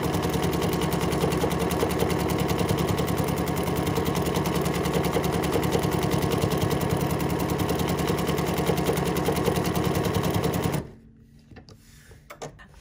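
A sewing machine runs at a fast, even pace stitching a mirrored decorative pattern, its rapid mechanical chatter continuing for about eleven seconds before stopping abruptly into near quiet.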